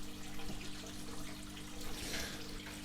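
An indoor water fountain runs steadily with a soft, continuous trickle and splash, fairly faint and close.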